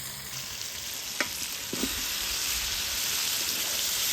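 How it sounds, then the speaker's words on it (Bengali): Fresh young corn stirred and fried in spices in a pan, with chicken skin in the dish: steady close sizzling with a few sharp spoon scrapes against the pan, no talking. "এবার ভুট্টালা কিছুক্ষণ ভালোভাবে মশলার সঙ্গে নাড়ি চাড়িয়ে নিব"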